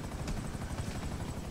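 A helicopter in GTA V Online thrums with a steady rotor drone and broad whooshing wash, loud and close throughout without a break.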